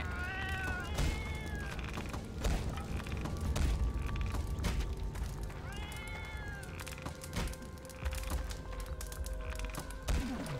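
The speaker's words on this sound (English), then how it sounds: "See my cat fighting?" In a fantasy video game, a pet cat fights, giving repeated meows and yowls over busy game sound effects, music and clanks, with the cat calls standing out near the start and middle.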